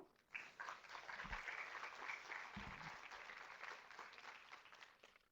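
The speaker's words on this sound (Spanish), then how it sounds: "le damos un fuerte aplauso" Sustained applause from a seminar audience, many hands clapping in a dense, moderately distant wash for several seconds, with a couple of low thumps.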